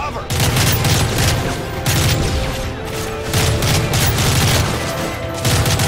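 Dense, continuous automatic gunfire from the Call of Duty Modern Warfare 3 campaign, loud and sustained in rapid bursts with brief gaps, booming low end under the shots.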